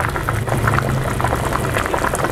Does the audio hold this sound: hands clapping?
no